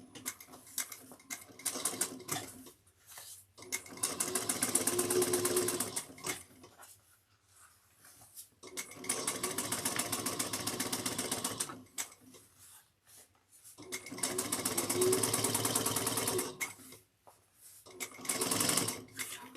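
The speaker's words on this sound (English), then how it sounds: "I'm going to top stitch on the lining" Sewing machine top stitching the folded seam allowance on a backpack lining, running in three long steady bursts with short pauses between, close and fairly loud with no talking.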